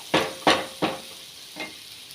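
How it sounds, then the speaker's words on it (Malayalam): Onions frying in a pan for ulli theeyal, stirred with four distinct scraping strokes over a soft sizzle, close and fairly loud with no talking. "ഉള്ളി ചൂടാവണം, നല്ലപോലെ ഒന്നുകൂടെ മൊരിയണം."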